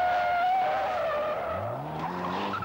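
A rally car skids through a left junction on a special stage at the 1991 Rally Australia, tyres squealing loudly in a long sliding whine while the engine note drops and rises again, close and alone.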